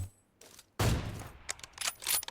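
Gunfire in the mobile battle royale game PUBG Mobile: a sudden loud burst after a quiet start, then several quick sharp shots close together over about a second and a half.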